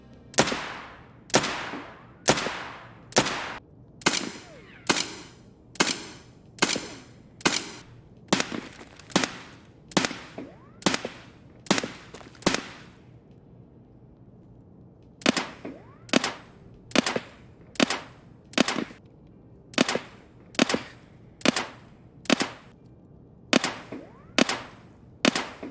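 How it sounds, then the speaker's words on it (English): Suppressed pistol shots in Escape from Tarkov, sharp muffled cracks fired one at a time in a steady rhythm of about two dozen, with a short pause midway and quiet between shots. "Let's compare all of the suppressors here on the pistols."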